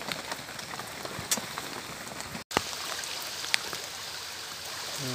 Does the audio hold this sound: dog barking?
no